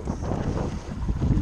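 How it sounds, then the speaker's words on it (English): Blustery wind offshore at sea on a fishing trip, buffeting the microphone, a dense low rumble that swells and dips throughout. "It's getting windy."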